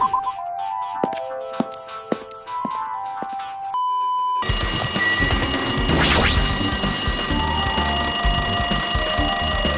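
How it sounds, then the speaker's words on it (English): Electronic ringing tones in the Danganronpa 2 video game, with a sequence of bell-like chimes that shifts into a louder, denser ringing and buzzing tone, with no voices. "Looks like that phone is ringing."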